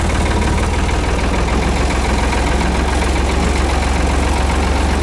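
An old engine idles steadily and loudly close by, with a rapid even knocking pulse and a dense low rumble throughout, no talk.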